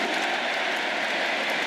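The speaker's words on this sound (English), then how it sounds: "Huge cheer for Ethan Waneri" Dense, steady roar of a large football stadium crowd at an Arsenal versus Athletic Club Emirates Cup match, cheering as substitute Ethan Nwaneri comes on, sustained and loud without a break.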